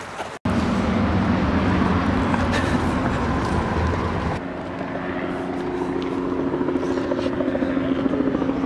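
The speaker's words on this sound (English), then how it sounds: "Helicopter." A helicopter passes overhead at a steep outdoor spot, its steady rotor drone loud and continuous throughout, with a brief dropout near the start and the tone shifting slightly as it moves.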